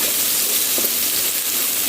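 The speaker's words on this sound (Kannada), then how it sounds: "ಮತ್ತು ಹೀಗೆ ಉರಿಯಿರಿ ತುಪ್ಪದಲ್ಲಿ" Chopped onion and curry leaves fry in ghee for a crab ghee roast, with a steady, close, loud sizzle hissing throughout and no pauses.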